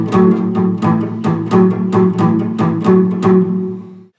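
Guitar strumming in a pattern of two hits, a raised note, then two more hits, crisp bright strokes repeating in a bouncy rhythm, alone and close.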